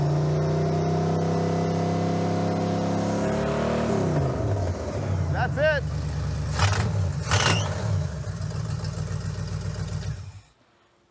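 A muscle car engine fitted with a new HEI ignition idles loudly up close, climbs into a rising rev, settles into a lumpy run with sharp throttle blips, then shuts off into silence; someone speaks briefly.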